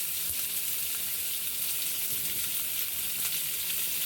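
Onions sizzle in hot oil with tempered mustard seeds and urad dal for egg rice, a steady, close, even crackling hiss with faint stirring and no talk.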